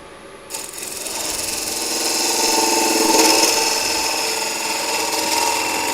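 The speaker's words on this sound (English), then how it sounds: "So this is a 13 mil bowl gouge." A 13 mm bowl gouge cuts wood on a spinning lathe while turning a yarn bowl, giving a steady, continuous scraping hiss with a low motor hum that swells slightly midway and runs close and loud throughout.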